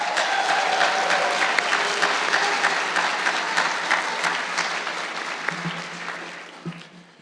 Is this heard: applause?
yes